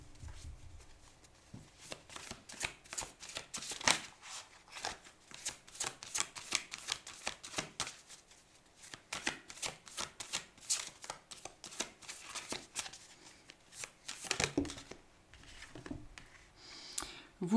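Oracle cards being shuffled for an intuitive guidance reading, a long run of soft, close, rapid riffling and flicking bursts with short pauses between them.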